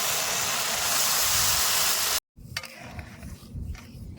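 Lentils (dal) fry in a pan with a steady, dense sizzle up close. The sizzle cuts out briefly, then returns with light stirring scrapes.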